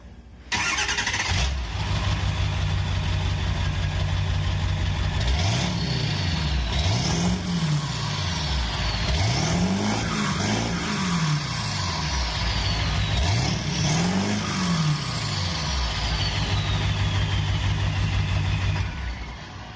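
A car fitted with a muffler delete kit starts with a sudden bark, then revs repeatedly in loud swelling blips that rise and fall over a raw, rumbling idle, close and continuous.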